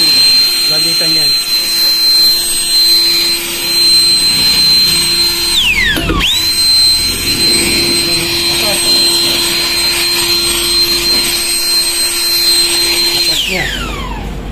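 A Euro Griffin 180i battery-powered turbo jet mini blower whines loudly and steadily up close, with a high pitched tone that dips and winds down twice, while people talk over it.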